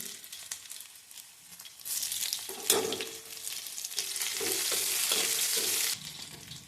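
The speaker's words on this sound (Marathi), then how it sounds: "तेल गरम झाले, तेलामध्ये लसूण घातलाय, चवीसाठी मोठी मोठी ठेचलेली हिरवी मिरची घातली," Garlic and coarsely crushed green chillies frying in hot oil in an iron kadhai, a close sizzle that swells louder and more hissing midway, with a few stirring scrapes and no speech.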